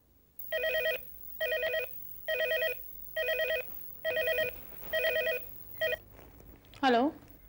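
A telephone rings in a TV drama scene, its tone coming in seven evenly spaced bursts before being cut off, followed by a short sliding electronic beep.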